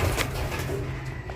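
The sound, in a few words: young pigeon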